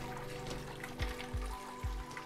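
Water drains and trickles from a grain basket lifted out of an all-in-one homebrew system, a faint steady pour broken by three soft splashy gurgles.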